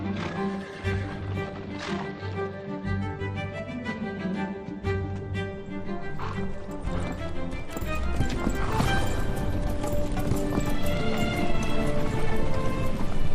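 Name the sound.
Mongolian horses hooves clip-clopping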